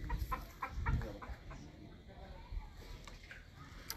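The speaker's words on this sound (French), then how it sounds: "la poule ne passe pas ici," A hen clucks in a short burst of close, throaty calls near the start, then scattered softer clucks follow over a quiet farmyard background.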